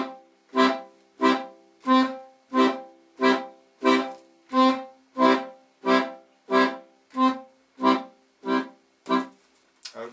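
An accordion plays a steady run of about fourteen short, detached bass-button and chord stabs, evenly spaced about 0.6 seconds apart, each bright reedy burst cut off cleanly into near silence.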